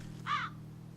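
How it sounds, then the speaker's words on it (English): A single short blackbird caw rings out in the video game Wytchwood, close and clear over a low steady hum. "I wonder if I have to kill a blackbird."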